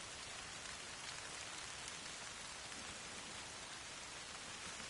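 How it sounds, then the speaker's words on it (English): Constant hiss of heavy rain mixed with wind in the video game Reforger, steady and unbroken throughout, with no voices. "Can't hear anything because of the wind and the rain."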